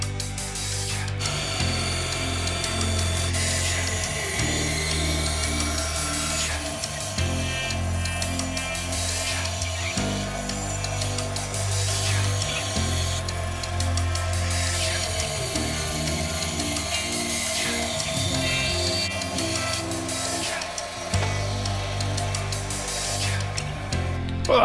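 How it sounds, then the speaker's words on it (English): A small hobby bandsaw cuts out wooden body pieces for a five-string through-neck bass, a loud continuous whirring drone whose pitch and texture shift in sections as the blade works through the wood, with no talking. "Time to cut these out. I'm going to use my little bandsaw."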